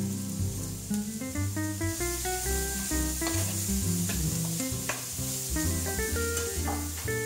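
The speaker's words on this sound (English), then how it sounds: "Then we add it to the pan and give it a stir." Elk meat for a stew sizzles in a pan as it is stirred, a steady frying hiss sitting under prominent background music.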